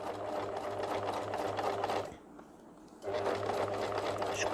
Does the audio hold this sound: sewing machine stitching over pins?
yes